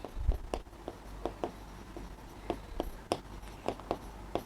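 Chalk or pen scratching out numbers by hand during a class-6 maths lesson on data handling, a run of short taps and strokes at a steady uneven pace, close and fairly quiet, no talking.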